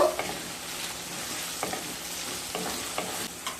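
Chopped capsicum and a medium tomato are stirred into frying sooji, giving a continuous close sizzle with rhythmic scraping strokes of the spoon through the pan.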